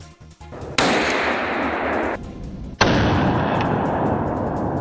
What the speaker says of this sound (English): a rapid burst of gunfire rang out